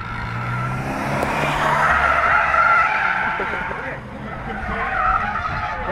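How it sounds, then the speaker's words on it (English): A Subaru skids through a handbrake turn outdoors, its tires scrubbing and squealing loudly for several seconds under the engine noise, with people talking over it. "Watch this handbrake here."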